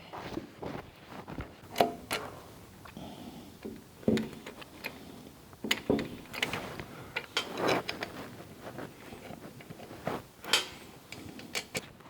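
Metallic clinks, ratcheting and tool scrapes sound close by as six bolts go into the one-way clutch of a Ford C4 automatic transmission on a bench, in irregular bursts of handling noise.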